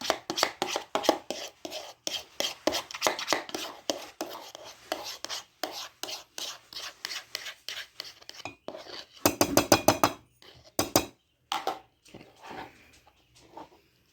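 Grated onion with its liquid being mixed into kibbeh meat in a bowl: a rapid run of close, rhythmic clacking strokes, then pauses and short bursts of quick taps near the end, with no speech.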